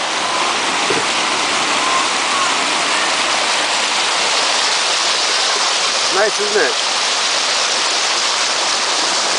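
Cheonggyecheon stream in Seoul flows in a steady, loud broadband rush of water that fills the whole scene, with a person's brief voice heard over it.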